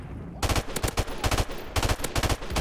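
Rapid automatic gunfire from the video game Battlefield: Bad Company rattles in several tight, loud bursts, near and punchy, with brief gaps between volleys.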